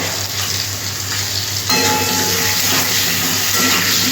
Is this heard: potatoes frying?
yes